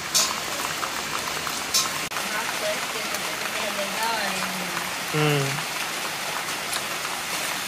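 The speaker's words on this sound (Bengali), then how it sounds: "আজকে বৃষ্টি থামার নাম নাই" Heavy rain pours down steadily in a village during Diwali, a dense continuous hiss with scattered drips, while nearby voices talk over it.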